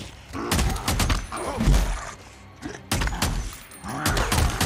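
Gunfire from a gun in the video game Days Gone: several loud, sharp blasts in irregular bursts with heavy low-end thuds between them.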